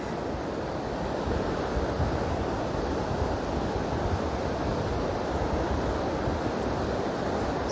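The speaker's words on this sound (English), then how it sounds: "So just some small waves today," Small sea waves wash onto the sand at Westward Ho! beach in a continuous close hiss, with buffeting wind noise on the microphone and no speech.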